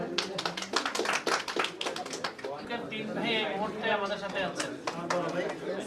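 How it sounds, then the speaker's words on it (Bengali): Scattered hand clapping at a freelancer shop opening in Comilla, fairly close and mixed with crowd voices, fading into people talking over a murmur of onlookers. "তালি হবে।"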